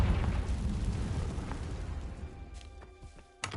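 A fire spell detonates in a Harry Potter video game, giving a loud low explosive boom right at the start that rumbles and fades over several seconds, followed by a few small pops.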